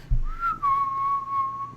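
A single clear whistled phrase from a wrestler's entrance theme in a Western style: a rising note that slides down and is held steadily, loud and alone.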